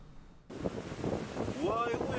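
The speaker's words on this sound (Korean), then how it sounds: "거센 파도가 방파제를 넘고 쏟아진 바닷물에 6차선 도로가 순식간에 잠겼습니다" Typhoon Maysak's gale roars across the Busan coast as heavy surf breaks over a breakwater, a loud, constant windy rush that cuts in suddenly and holds steady with a faint voice in the mix.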